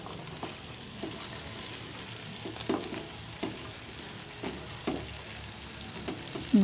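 Vegetables, including pechay, sizzle steadily in a pan while a utensil scrapes and stirs, giving occasional louder clanks against the pan, close by with no talking.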